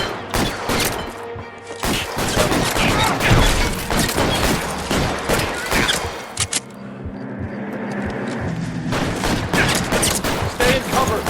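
Heavy gunfire in a shooter game: rapid bursts of loud, sharp shots fired in quick succession, pausing briefly before resuming in steadier volleys, with a voice occasionally under the din.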